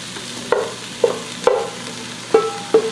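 Ground beef and potatoes being stirred in a pot, with a few scraping spoon strokes and soft sizzling bursts spread over a couple of seconds.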